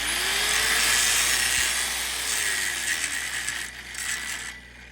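A grinder works on a 3-inch pipe weld, giving a loud, steady, high-pitched grinding hiss close by. The noise eases and fades toward the end as the grinding lets up, and no one talks.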